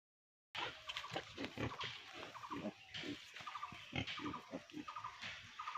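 Piglets on a pig farm, about ten newborns, grunting and squealing in busy overlapping bursts at close range, quiet overall and with no talk.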